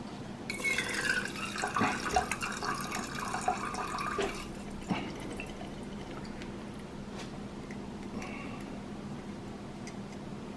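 Alcohol-soaked ground mushrooms for a tincture being strained, liquid trickling and dripping through steadily with a few wet squeezing and handling noises, close and quiet, no one speaking.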